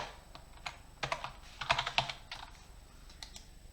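Quiet, close typing on a computer keyboard: scattered single keystrokes and a short cluster of quick taps in the middle, with no talking.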